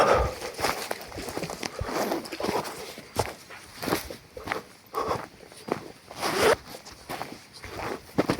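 Clothing zippers being pulled open outdoors by a stream on a hunting trip with dogs, giving several quick rasping zips among rustling fabric and footsteps, close and fairly loud with no talk.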